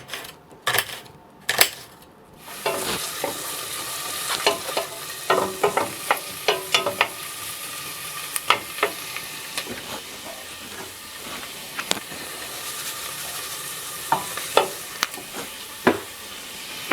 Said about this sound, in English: Stick them in a pan and saute them for a while.